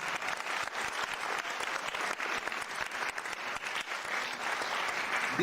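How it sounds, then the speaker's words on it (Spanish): A crowd of teachers at a union tribute ceremony applauds steadily, a thick wash of many hands clapping throughout, fairly distant and even, with no talk over it. "yo quiero pedirles un aplauso para todos estos compañeros maestros"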